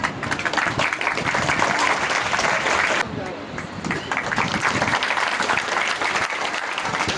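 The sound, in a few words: crowd clapping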